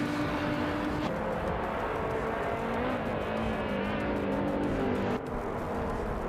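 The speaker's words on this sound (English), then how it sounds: "Ikar 77 is driving a 2019 McLaren 720S GT3" A 2019 McLaren 720S GT3 race car in a racing video game, its engine droning loud and steady with a rising and falling whine and a brief dip as it shifts.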